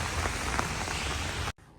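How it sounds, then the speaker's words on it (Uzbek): Rain falls steadily in a dense, even hiss of drops that lasts until an abrupt cut near the end. "Yomg'ir yog'yapti."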